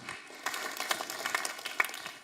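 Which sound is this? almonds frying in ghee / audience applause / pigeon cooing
audience applause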